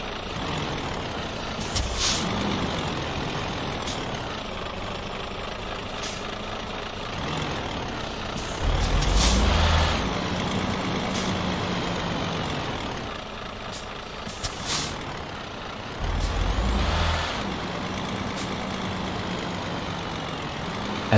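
A truck in Euro Truck Simulator hauls a full load of car parts, its heavy diesel engine rumbling low and steady, with sharp air brake hisses breaking through now and then.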